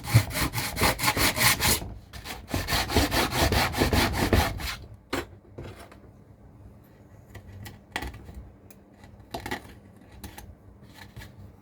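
Pieces for a bridge diorama are cut with rapid, close, rhythmic rasping sawing strokes in two loud bursts, then quieter scattered scraping and handling clicks.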